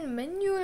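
Cat companion in a monster-fighting video game giving a single rising, drawn-out meow, close and clear, with a voice speaking briefly over it.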